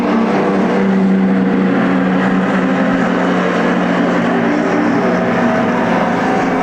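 Street stock race cars circling a speedway during a feature race, a steady loud blended engine roar from the pack with no break throughout.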